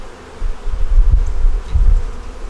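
Honeybees buzzing around an open double-deep eight-frame hive during inspection, a loud close low hum with a few heavier swells as bees fly near, no voices.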